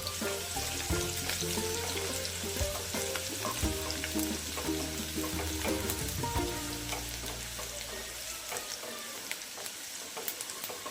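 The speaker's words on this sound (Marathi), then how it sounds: "कांदा लालसर होईपर्यंत भाजून घ्यायचा." Onion frying in hot oil, a fairly quiet, continuous crackling sizzle with occasional stirring scrapes, close and steady with no talk.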